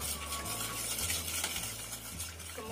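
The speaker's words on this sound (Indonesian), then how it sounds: "Kita aduk sampai rata." A spoon stirs milk, coconut milk, sugar, salt and vanilla together in a pot for rice-flour pudding, producing a soft continuous swishing and scraping that is close and quiet, with no talking.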